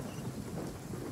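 Steady rain with a low thunder rumble in a Genshin Impact game scene, a dense unbroken wash of sound with no voices.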